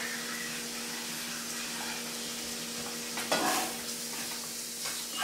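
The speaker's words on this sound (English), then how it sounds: "we're just going to stir this until it thickens up" Shrimp and grits being stirred in a pan until they thicken, a steady soft sizzle and scraping churn with a brief louder swirl midway, close and continuous with a low hum beneath.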